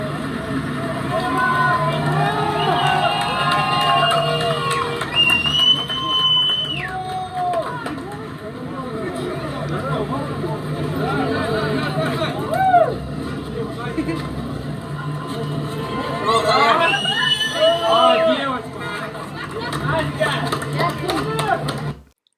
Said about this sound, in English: Crowds were seen chanting Wagner, Wagner